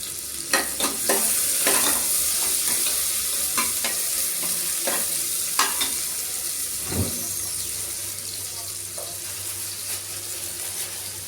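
Onions and green chillies sizzle steadily in hot oil while a utensil stirs and scrapes the pan with intermittent clacks, close by, without talk.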